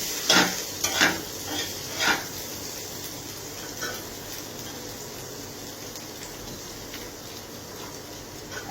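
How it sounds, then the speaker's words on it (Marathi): Potatoes are stirred and fried in a pan, with a few sharp scraping stirs early on over a soft, continuous sizzle that carries on alone. "हे बटाटे घालू, त्याचे छान परतून घ्यायचे आहे।"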